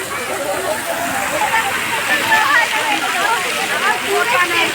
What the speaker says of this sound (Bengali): এখানে চমৎকার একটি ঝর্ণা